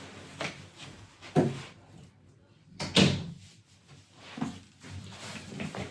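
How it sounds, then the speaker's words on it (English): An indoor door is pushed shut, making two short wooden thuds about a second and a half apart, close by, with a quiet room around them and no one talking. "I'm gonna close the door."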